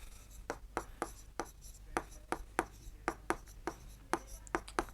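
Chalk taps and scrapes on a classroom board while a maths problem is written out, a quick irregular run of sharp strokes close by, steady and fairly loud against a low background hum.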